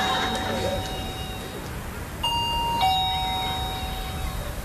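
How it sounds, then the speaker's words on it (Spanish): A doorbell rings in a home during a Chilean TV series scene, with clear electronic ding-dong tones over busy background noise and voices. "¡Está tocando el timbre!"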